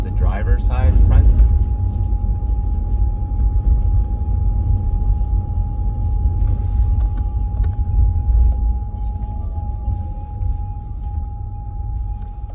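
High-pitched steady squeak from the front right of a Toyota Prius, a thin continuous tone running throughout over low road and engine rumble, with a person talking at the start.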